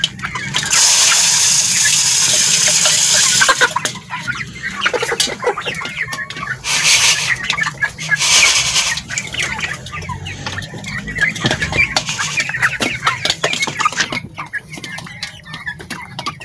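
Lohman Brown hens crowding a feeder, their clucks and calls heard close among bursts of rustling and feed noise, with broad hissing swells and a busy, uneven rhythm throughout.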